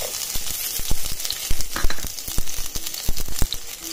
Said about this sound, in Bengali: এবার তেলটা দেওয়ার পরে পেঁয়াজ কুচিটা দিয়ে দিব।